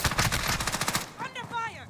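A rapid burst of automatic gunfire in Warzone, loud and close, rattling for about a second before a voice speaks.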